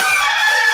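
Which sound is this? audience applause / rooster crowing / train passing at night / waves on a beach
rooster crowing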